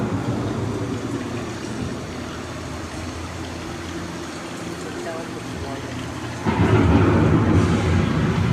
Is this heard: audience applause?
no